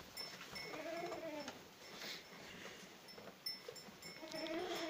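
Pregnant ewes in a Maramureș sheepfold bleating intermittently among goats, several wavering calls at moderate distance over a faint rustling background.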